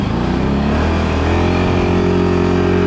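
A Can-Am BRP Outlander 1000 XMR ATV on Gorilla 30 tyres revs hard in deep snow, its engine note rising in a loud, sustained, close-up drone with no talk.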